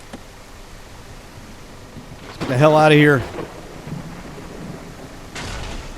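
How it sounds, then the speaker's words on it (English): Rain falls steadily in the video game Outbreak Island, a continuous soft hiss with a louder rumbling swell midway, while someone talks over it. "and it's raining"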